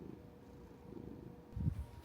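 A pet cat purrs softly and steadily in close range, a low quiet rumble with a slightly stronger swell near the end.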